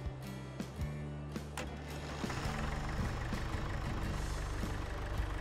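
An old tractor engine idles steadily nearby, its low rumble running through the whole stretch without pause, with a few faint knocks and clatters rising over it and no talking.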